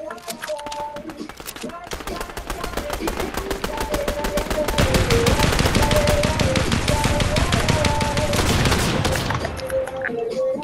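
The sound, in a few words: gunfire in the video game Fortnite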